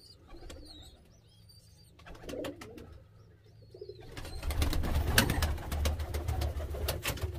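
Baby pigeons being hand-fed make soft cooing and squeaky begging calls, followed by rustling, fluttering and handling noises close by.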